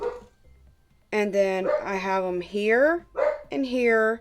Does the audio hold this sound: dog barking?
yes